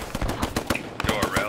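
Rapid automatic gunfire from a weapon in the WWII shooter game Squad 44, loud bursts of repeated shots with battlefield noise, a player's voice faintly present.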